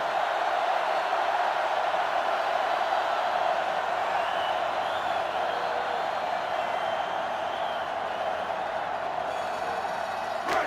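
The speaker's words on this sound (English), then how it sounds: "This sellout crowd is really making a difference now as these guys can't even call the play." Steady stadium crowd roar from the NCAA Football 2005 video game on GameCube, a sellout crowd at a Clemson versus Penn State college football game, holding a constant dense wash throughout with no voices on top.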